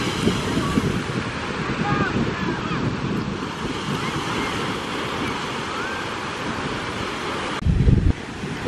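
Ocean waves wash steadily up a foggy beach as a continuous hissing surf, with wind rumble on the microphone and a louder gust near the end.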